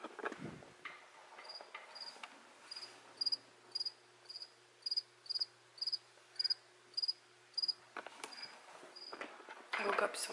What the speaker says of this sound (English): this cricket has been chirping all freaking night